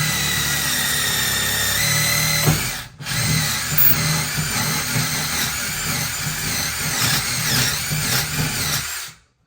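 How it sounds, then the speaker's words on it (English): Power drill pre-drilling a cabinet during a laundry room makeover, a loud close whine that runs steadily, cuts out briefly, then resumes with varying pitch until stopping. "So now we're going to pre-drill this here."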